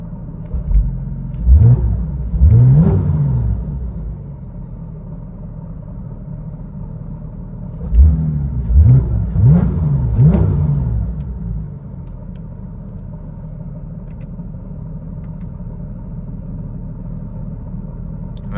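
Cabin view of a 2019 Porsche 911 GT3 RS with a muffler delete, its exhaust heard from inside: two loud revving bursts around two and eight seconds, each rising and falling, with a steady idle rumble between and after.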